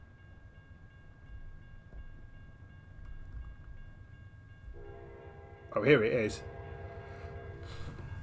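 A train in American Truck Simulator rolls past a waiting truck, its horn sounding loudly in a brief blast over a steady low rumble, while someone talks briefly.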